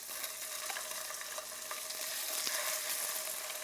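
Salmon sliders sizzle steadily in melted butter in a pan, a dense crackling fry that runs alone and close with no talk.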